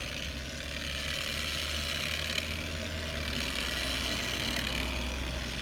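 A rotary polisher pad spins at about 2,000 RPM while product is worked back and forth, giving a steady, even motor hum with a low drone and no speech.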